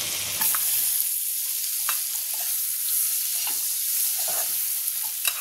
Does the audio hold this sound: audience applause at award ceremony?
no